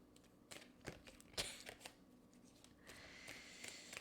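A deck of cards is shuffled by hand during a card reading, giving sharp papery riffles and soft slaps in a few uneven bursts, close and fairly quiet, with a longer rustling stretch near the end.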